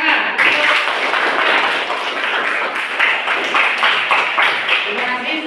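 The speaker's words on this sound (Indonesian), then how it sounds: "Mari tepuk tangan." Students in a classroom clap together, giving dense, fairly loud rhythmic hand clapping close by that pulses in quick bursts for the whole stretch, with faint voices mixed in.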